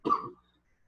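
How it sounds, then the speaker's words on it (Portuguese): A single short cough from a man, close and fairly loud, with no talk around it. "Desculpa, estou tossindo um pouco hoje."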